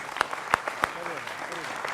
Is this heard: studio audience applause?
yes